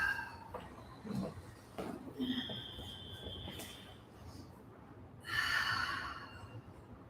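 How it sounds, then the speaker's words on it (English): Slow breathing during a qigong-inspired yoga session, a soft exhale early, a few quiet breaths in the middle, then a fuller, louder exhale near the end, close and gentle. "You can take a deep inhale and an exhale out."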